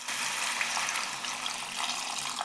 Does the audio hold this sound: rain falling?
no